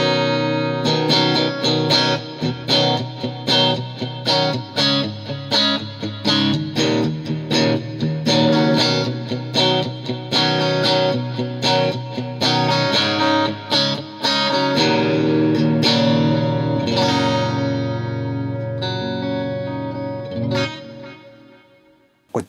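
Electric guitar through a Neural DSP Quad Cortex with delay plays a run of quick, rhythmic notes with repeating echoes trailing each one, building to a final ringing chord that fades out, in a studio.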